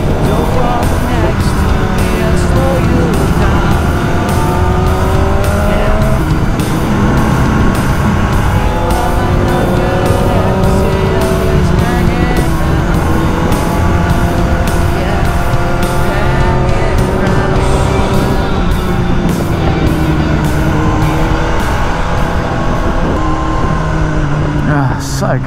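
A BMW M1000 R superbike fitted with a Brentune tune is ridden hard, its engine a loud, sustained, rising and falling roar with gear changes close to the microphone, and a rider's voice is heard over it.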